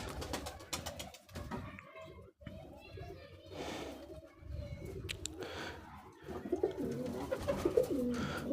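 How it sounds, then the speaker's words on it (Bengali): Pigeons coo softly in repeated throaty calls while people and children talk nearby. "আপনারা সবসময় চেষ্টা করবেন কবুতরকে ছেড়ে পোষার জন্য।"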